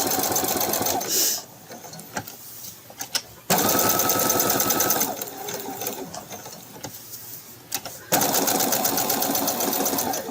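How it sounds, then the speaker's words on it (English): A domestic sewing machine runs in long steady bursts while stitching down the edge of a log cabin quilt-as-you-go block with bandana backing, the motor stopping briefly between runs. Faint talk sounds in the background. "you can go ahead and stitch all the way down, making the edge"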